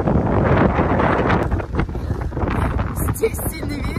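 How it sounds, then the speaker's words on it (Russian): Strong wind on Iztuzu beach in Dalyan, Turkey, blowing sand and buffeting the microphone in loud gusting bursts, with rustling and a brief faint voice near the end. "Здесь сильный ветер, везде летит песок."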